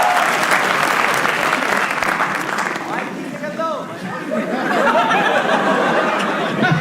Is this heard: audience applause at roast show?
yes